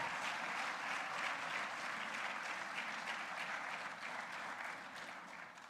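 A crowd claps steadily in loud, dense applause for the band at a community salute event in El Paso, continuing throughout and tapering slightly toward the end.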